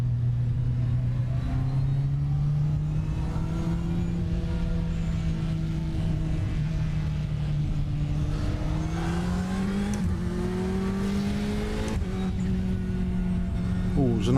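A Ferrari 488 GTE race car engine in the iRacing simulator at Sebring holds a steady droning tone while it climbs and shifts through gears under acceleration. It continues without a break across the whole stretch, with a voice talking over it at times.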